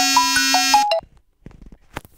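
A phone ringtone plays a loud, melodic electronic tune of sustained beeping tones for about a second, then cuts off abruptly, leaving faint clicks and room noise.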